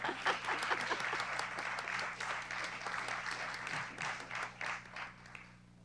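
Applause for David at a school board meeting, a few seconds of steady clapping from a seated audience, fairly quiet and tapering off at the end.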